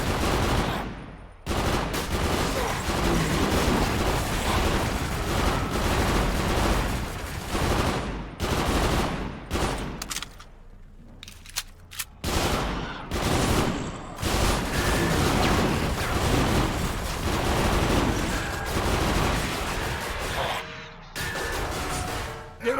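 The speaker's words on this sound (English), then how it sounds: "this is a submachine gun" A submachine gun in the video game Ghostship Chronicles fires loud, sustained bursts of rapid gunfire with brief pauses between volleys, along with heavy impacts and crashes.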